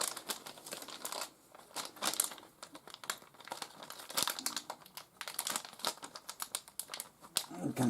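Crinkly paper inside a LEGO Harry Potter minifigure packet rustles and crackles in quick, uneven bursts up close, with sharp little snaps scattered through steady handling.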